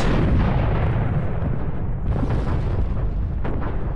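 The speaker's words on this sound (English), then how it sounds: "We're going to bombard it." Orbital bombardment of a planet in the strategy game Master of Orion 3 comes through as continuous heavy rumbling with booming impacts. It stays loud and dense throughout, with a few sharper blasts standing out near the end.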